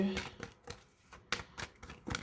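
Tarot cards being shuffled by hand for a pick-a-card reading, a close run of soft papery riffles and flicks in uneven bursts over a couple of seconds.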